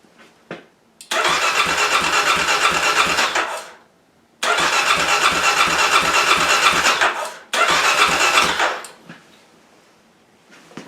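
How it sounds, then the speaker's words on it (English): A Kawasaki KLX300 dirt bike engine cranks in three long, loud, close bursts of rapid starter chugging separated by brief silences. "I'm gonna see if the bike fires up anyhow here"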